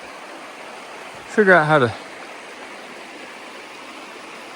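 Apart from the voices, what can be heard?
creek flowing in Spearfish Canyon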